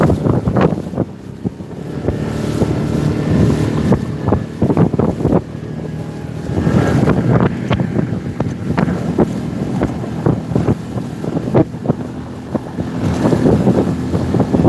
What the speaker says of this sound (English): It's a much better ride after you're on plane. I'm just kind of skipping over these waves.